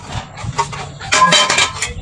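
Metal lid being placed on a cooking pot of sinigang na baboy, a cluster of close, bright clinks and clatters of metal on metal within about two seconds.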